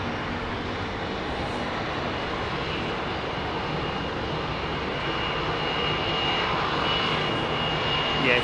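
Jet airliner engines at London Heathrow Airport roar as a loud, steady broadband rumble and rush that holds for several seconds and swells slightly toward the end, with no voices.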